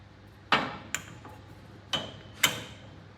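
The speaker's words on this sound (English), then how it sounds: "I'm going to try and see if we can hit it free." A stuck bearing is struck with a hammer to knock it free, giving four sharp metallic hits spaced unevenly over a few seconds against a quiet background.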